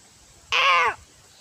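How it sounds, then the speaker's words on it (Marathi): A single crow caws once, loud and close, a harsh cry of about half a second in an outdoor mango orchard. "बघा कावळावर वरडतोय काव काव"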